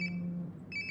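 A phone in the video game Life is Strange: Before the Storm gives a brief electronic ring tone that stops and then starts again, playing over a steady low hum.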